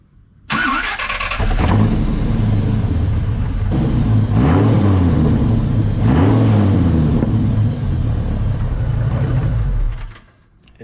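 A Dodge Viper engine starts and runs, a loud, deep, steady rumble with a couple of slight swells, then cuts off abruptly near the end.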